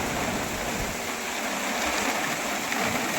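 Steady, even hiss of falling rain, the season's first, in Pune, constant throughout with no breaks and no voices.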